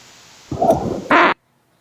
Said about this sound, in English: They just farted in the mic!